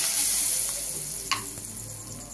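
Bay leaves dropped into hot oil in a pan where fish has been frying for a Bengali maan kochu fish curry, giving a steady close sizzle with a brief sharper crackle partway through and no talking.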